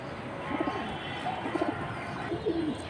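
Pigeons at a high-flying pigeon breeder's loft give three soft, low coos at a moderate distance over a faint steady background hum.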